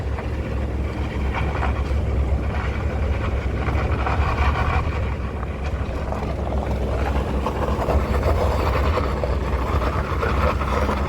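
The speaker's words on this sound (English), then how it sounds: "You can hear the truck fighting for traction." A truck engine labors loudly and continuously up a steep dirt road, a low droning roar with wind buffeting, as the truck fights for traction.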